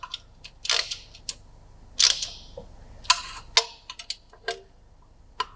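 Short ratchet clicking in quick bursts while tightening exhaust nuts on a Yamaha R7 with a Yoshimura full exhaust system, close and crisp with brief pauses between strokes.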